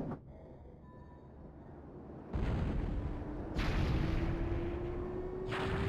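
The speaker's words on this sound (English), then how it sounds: "They have much bigger cannons." Cannon fire booms from the video game Skies of Arcadia: deep heavy blasts rumble loudly, with a rising whine under the barrage and a further impact near the end.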